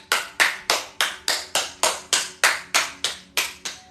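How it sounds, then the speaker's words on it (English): A group claps hands together in a steady, evenly spaced rhythm during a fascial movement class, about a dozen crisp, fairly loud claps with ringing decay, no voices. "Let's clap our hands."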